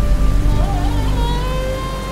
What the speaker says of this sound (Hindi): वर्षा तो थमने दीजिए।